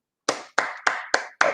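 Five separate claps, each a sharp onset with a short decaying tail, spaced about a third of a second apart. The pattern is steady and close, and nobody talks.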